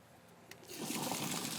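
Muddy pond water trickles out of a sand filter outlet, a soft close gurgle that swells into a steady gentle flow after a quiet start.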